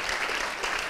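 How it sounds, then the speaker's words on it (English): Audience applause at a GUADEC 2017 conference talk, a steady wash of many hands clapping filling the whole second with no clear pauses. "first of all, applause for people who stick around."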